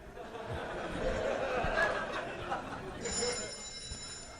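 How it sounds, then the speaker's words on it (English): A telephone rings during a live comedy show in a theater, a bright electronic trill over crowd murmur and soft laughter, starting partway through and lasting to the end. "Now the phone's ringing."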